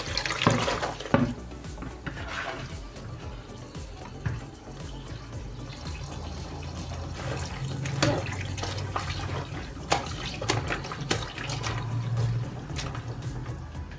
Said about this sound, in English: Rinse it one more time.